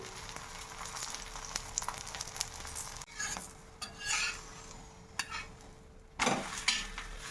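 An aloo paratha fries in oil on a tawa griddle, with a soft continuous sizzle broken by a few scraping and clinking sounds from a spatula against the pan.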